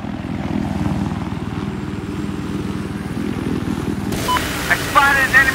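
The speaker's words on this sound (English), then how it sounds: "I'm taking the helicopter." A Battlefield 4 helicopter in a multiplayer match on the Paracel Storm map gives a loud, close, steady rotor thump and engine drone, with game interface beeps near the end.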